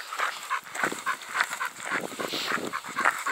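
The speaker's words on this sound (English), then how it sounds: "We passed a couple dogs." Dogs barking at close range while being passed on a walk, a rapid series of sharp, repeated barks filling the whole moment with no talking.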